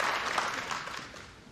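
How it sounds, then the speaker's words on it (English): Spectators clap steadily through a 2022 World Pool Championship semi-final match, a dense wash of applause that slowly fades. "Yeah, the crowd giving Abdullah a clap there."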